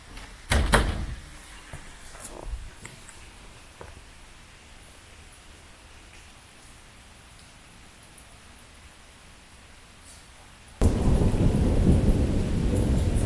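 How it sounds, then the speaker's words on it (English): Thunder during a long rainy day in a remote spot, a sharp crack and rumble early on, fading to rain hiss, then a loud, sustained roar of heavy downpour or rolling thunder near the end, with no talk. "Thunder."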